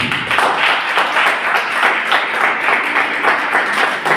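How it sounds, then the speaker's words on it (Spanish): A church congregation applauds together, a steady wash of many hands clapping at close range that fills the space without pause and with no voices breaking through. "Denle un aplauso al Señor."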